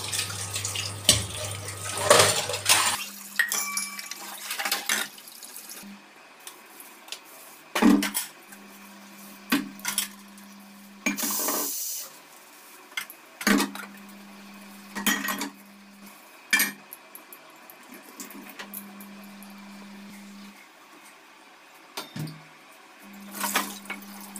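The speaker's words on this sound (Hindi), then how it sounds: "फटाफट धुल लेते हैं बर्तन" Dishes, pots and utensils are washed by hand in a home kitchen sink, with running tap water and repeated clinks and clatters of metal and steel scattered throughout.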